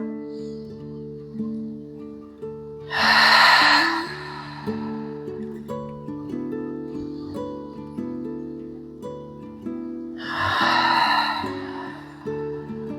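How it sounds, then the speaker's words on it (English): Two deep breaths during a seated chair yoga desk break, each a broad airy inhale and exhale standing out clearly over soft, steady background music, spaced several seconds apart. "inhaling through the nose and exhaling through the mouth"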